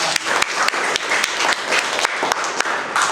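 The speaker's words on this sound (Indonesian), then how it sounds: "baik kita kasih aplaus untuk kelompok" Applause from a classroom audience for a student group after its presentation: dense, even clapping across the whole stretch with a few sharper claps standing out, close and fairly loud, no talking.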